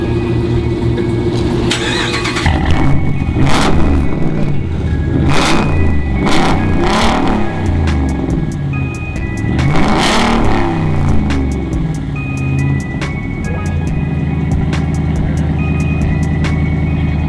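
A Dodge Ram truck with a Flowmaster Super 10 exhaust and 5-inch tips revs up close and loud, with repeated throttle blips rising over a steady rumbling idle and no talking.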